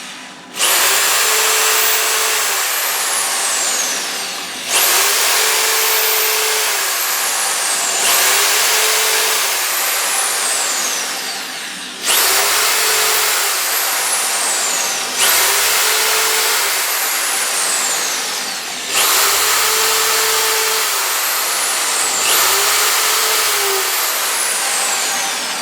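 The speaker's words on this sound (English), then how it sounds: "Let's get some holes drilled." A power drill bores holes through a wooden batten in six loud bursts, each lasting several seconds with brief pauses between, the motor whining steadily as the bit cuts through.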